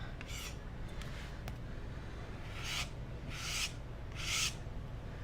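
A scraper drags paint across a wood sign background in three or four close, short, raspy strokes, following a few faint clicks at the start.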